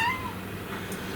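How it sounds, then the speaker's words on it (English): A pet cat meows for attention from somewhere below, a short, moderately quiet harmonic call at the start that fades into a soft indoor background. "She's down there meowing for attention."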